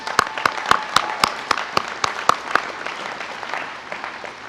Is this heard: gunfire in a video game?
no